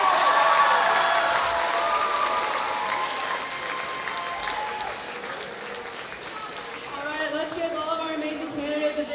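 A school crowd applauds and cheers after a student's ASB election speech, loud clapping that slowly fades while voices and chatter rise, and a speaker talks over the tail end.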